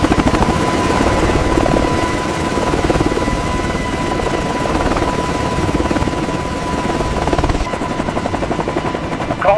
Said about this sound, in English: the alert Seahawk crew races through startup